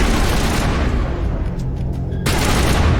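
Automated defense turrets in the Mass Effect video game fire in dense bursts of gunfire, loud and close, with a brief quieter lull midway before the barrage resumes at full strength.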